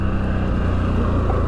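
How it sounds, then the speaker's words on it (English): A CFMoto CForce 1000 ATV's engine intake gulps air while riding at White Oaks ATV Park, a loud, close, steady low whooshing drone with no break. "You can really hear it just gulp in the air"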